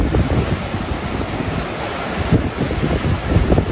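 Strong ocean waves crash close by in a continuous rough surf wash with heavy wind buffeting the microphone, the roar swelling as bigger waves hit near the end.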